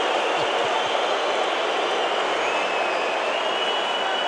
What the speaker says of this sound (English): Up to the chair umpire to quiet the crowd.